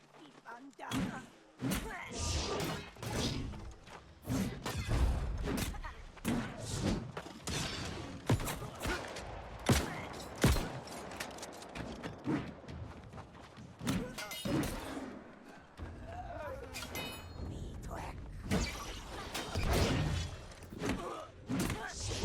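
A cannon in the video game New World fires with a heavy thump followed by an explosion, repeated booms and thuds over game effects while someone talks throughout.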